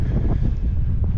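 Gusty wind buffets the microphone outdoors beside a soft farm field on a sunny day when canola is being sown, a loud, continuous low rumble lasting about a second.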